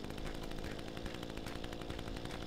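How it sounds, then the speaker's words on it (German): A chainsaw running continuously in a forestry video game, a steady buzzing engine drone with rapid pulsing chatter, fairly faint and unbroken throughout. "Jetzt komme ich mit meiner Säge."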